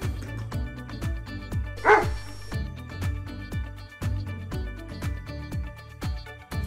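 A dog barks in quick, repeated bursts at a steady rhythm, fairly close and loud, with a brief noisier flurry early on.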